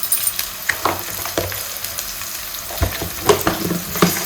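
A few peppercorns drop into hot oil in a pan for palak pulao, giving a close, crackling sizzle with scattered pops and small clicks throughout. No voices are heard.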